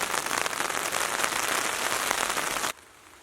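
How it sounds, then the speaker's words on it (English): Rain pours onto a tarp awning on a Scamp camping trailer at Bass River State Park, a dense steady patter close by that stops abruptly near the end, leaving faint quiet. "So it's about 3:30 now, and here's the rain."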